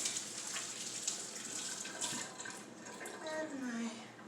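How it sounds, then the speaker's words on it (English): Tap water runs steadily as hands get a quick rinse at a kitchen sink while cooking lasagna, a close continuous splashing gush with slight shifts as the hands move, and a faint voice toward the end. "Quick rinse of the hands."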